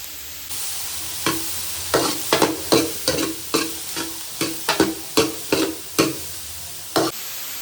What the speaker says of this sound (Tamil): இதை நம்ம ஒரு 5 நிமிஷத்துக்கு நல்லா வதக்கிக்கலாம்.